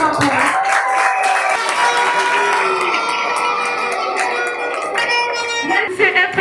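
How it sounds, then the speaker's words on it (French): A crowd at a university graduation ceremony claps and cheers for a graduate, a loud, dense wash of applause with whoops and shouts rising above it, steady throughout. "Applaudissements pour elle."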